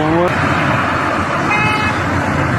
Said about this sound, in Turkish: Evet görüyorsunuz konvoy şeklinde çıkıyor.